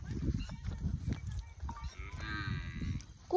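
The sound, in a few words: buffalo on a muddy farm path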